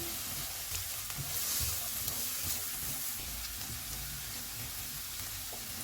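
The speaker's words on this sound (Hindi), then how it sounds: "ऑयल गर्म हो गया, इसमें प्याज डालेंगे। इनको 2 मिनट तक भूनेंगे।" Onions frying in hot oil for potato patties: a steady, fairly faint hiss and sizzle that holds evenly throughout, close by, with no talking.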